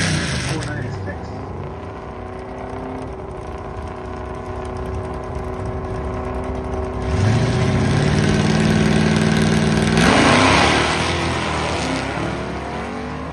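A 2011 Camaro with a 6.2 engine at a charity airport drag race, idling and then revving hard in two rising bursts with a strong low engine note, set against a background of crowd noise.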